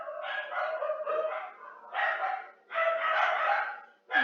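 Several dogs barking in repeated bursts, fairly close and loud, with short pauses between volleys and a final sharp bark at the end; no one speaks.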